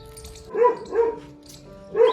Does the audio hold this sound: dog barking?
yes